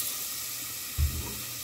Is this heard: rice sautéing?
yes